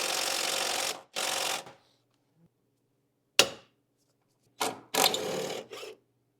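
A ratchet works an E18 external Torx strut brace bolt on a 2013-2015 BMW 335i N55 F30, producing close bursts of clicking, two near the start and a few more later, separated by quiet gaps.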